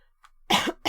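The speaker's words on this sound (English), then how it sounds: "Sorry for coughing all the time." A person coughs close to the microphone during a livestreamed TryHackMe buffer overflow session: a faint breath, then a loud, harsh cough burst followed by the start of another.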